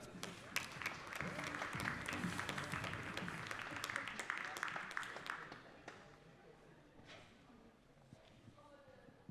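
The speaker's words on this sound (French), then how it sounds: "Allez, les applaudissements pour la reprise." Audience applause at a padel tournament quarter-final, the FIP Rise in Bourg-en-Bresse, with dense clapping from the crowd that gradually thins and fades toward the end, with a few scattered claps left.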